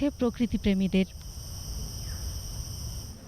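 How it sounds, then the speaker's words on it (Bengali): Crickets in the Bhawal National Park forest give a steady, high, shimmering drone, starting under a short bit of narration and then continuing on their own. "ঝিঝির ডাক ও গাছপালা যেন ডাকছে"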